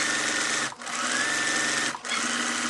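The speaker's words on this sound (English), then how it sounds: "I'm going to sew all the way to the corner" A sewing machine stitches binding onto a quilted tree skirt, a loud, close, steady whirring hum that briefly stops twice for pivots and then resumes.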